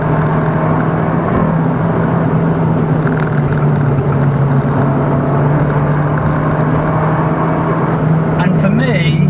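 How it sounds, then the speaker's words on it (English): A steady, loud engine drone with road and wind roar, heard from inside a moving Abarth 695C Rivale turbocharged convertible hatchback with the roof shut, accelerating, holding even throughout with a faint rattle near the end. "So let's go and give the car a little bit more of a push."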